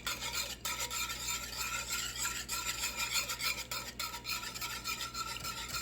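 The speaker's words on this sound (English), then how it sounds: "Toss in your evaporated milk, the whole can, and whisk again." A whisk scrapes and swirls through evaporated milk and mac and cheese sauce in a pot, a continuous raspy stirring with brief pauses, close and alone.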